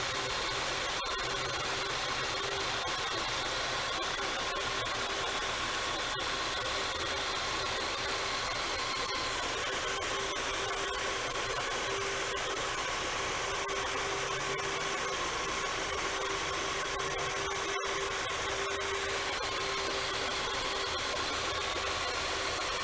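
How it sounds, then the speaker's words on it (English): A carbon-fouled Honda four- or six-cylinder engine runs steadily at idle, a continuous, even hum with a faint hiss that stays unchanged throughout. "It sounds like a 4-cylinder or 6-cylinder Honda"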